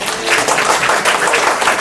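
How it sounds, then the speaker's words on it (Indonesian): A seminar audience claps briefly, a short burst of fairly loud, close hand clapping from a modest crowd lasting under two seconds. "tepuk tangan dong"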